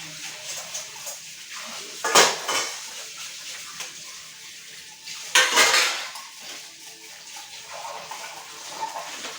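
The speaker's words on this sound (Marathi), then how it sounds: "मी आता ना सर्व काही भांडे ना धुवून घेते" Dishes, pots and glasses being washed in a home kitchen sink: two loud clattering clanks of metal and crockery stand out over running water and softer scraping, with quiet talk in between.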